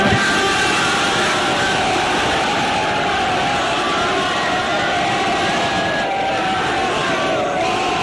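A large street crowd roars and cheers wildly around IShowSpeed as he waves a Polish flag atop a car roof, forming a dense, continuous wall of shouting and whooping voices.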